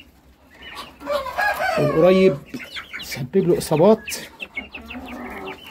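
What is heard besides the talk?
chickens clucking after weasel attack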